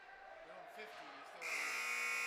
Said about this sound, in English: There's a shot at the buzzer, caught by the goalie. And that'll end the second period.